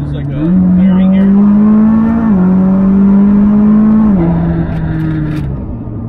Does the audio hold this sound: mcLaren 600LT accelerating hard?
yes